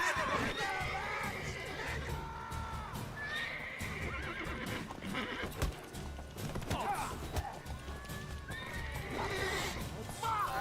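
A horse in The Witcher video game neighs and whinnies repeatedly amid clip-clopping hooves, close and loud within a busy game scene with other voices talking over it.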